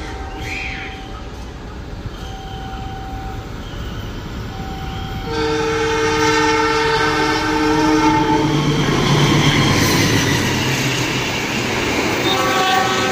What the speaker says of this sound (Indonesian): itu dia kereta api Sancaka ngebut kecepatan maksimal 120